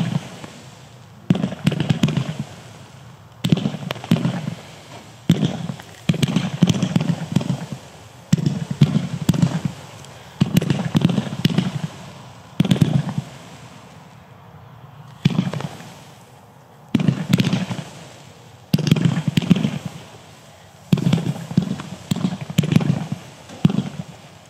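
A 12-shot Gold Wave Comet fireworks cake fires in a steady series of sharp launch thumps and crackling bursts, evenly spaced and fairly loud, heard alone without talk.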